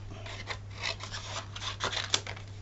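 Scissors snipping through a sheet of paper, a short run of soft, raspy cuts heard close but quiet over a low steady hum.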